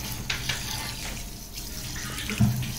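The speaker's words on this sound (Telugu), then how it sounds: "ఇప్పుడు దీనిలో నీళ్ళు వేసి మనం నానబెట్టి ఇప్పుడు వాటర్ వేసుకుందాం." Water from a tap splashes into a container in a kitchen while soaking ingredients, a soft, steady trickle and splash at close range, fairly quiet, with a few small knocks.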